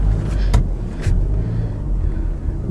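Car engine rumbling at low speed while being driven into a parking spot, a steady close hum with a couple of brief sharp clicks or knocks early on.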